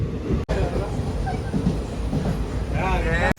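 Steady rumble of a moving train with broadband rolling noise throughout, a brief dropout near the start, and a faint squeal toward the end.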